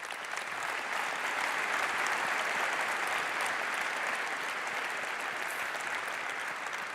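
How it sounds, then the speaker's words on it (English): Audience applause at a Cisco Live event in Barcelona, a dense steady wash of many hands clapping that holds at an even, loud level throughout with no talk over it. "Let's give them a round of applause."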